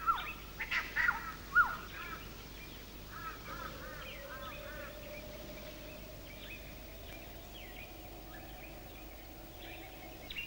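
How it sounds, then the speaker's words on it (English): Birds call in open country, a few loud squawking cries up close at the start followed by fainter repeated chirps and a thin whistle further off over a quiet background. "Listen to the sign of when birds calling out."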